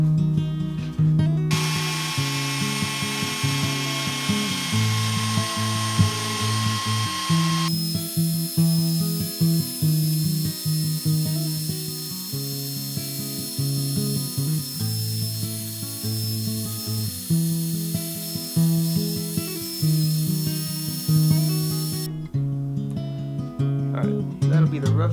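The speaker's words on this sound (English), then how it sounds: "Let's take it to the belt sander to clean it up." A belt sander runs steadily for about 25 seconds, giving a continuous whining drone that shifts in pitch as a wooden jerkbait fishing lure is pressed against it and its rough profile is sanded smooth.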